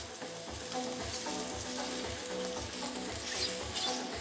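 Citrus dill shiitake mushrooms sauté over medium heat under continuous stirring, producing a dense, steady sizzle with rhythmic low scraping strokes from the utensil.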